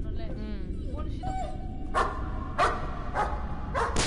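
In the horror game Layers of Fear, a dog lets out four sharp barks at a steady pace over a low, murky ambience, following fainter whimpering sounds.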